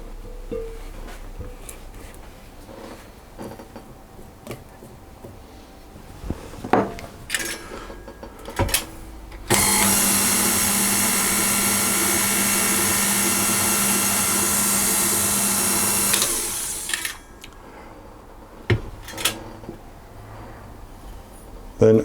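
An electric mixer whirs steadily on slow speed through moist coconut pound cake batter, a loud sustained drone lasting several seconds, preceded and followed by quieter kitchen clatter and taps.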